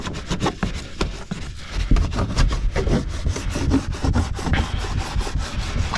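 A scrub pad rubs rapidly against the glass down behind the third brake light of a 2000-2005 Honda Civic, giving a steady, close rhythmic scrubbing that runs throughout without talk.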